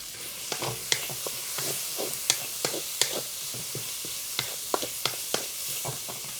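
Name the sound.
onions frying in hot oil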